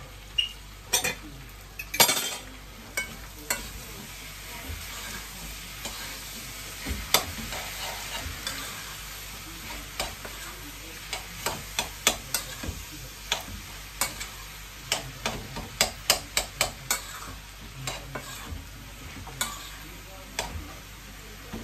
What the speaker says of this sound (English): That's my saltfish over there, so on top of my cabbage. So we're gonna mix that all up now.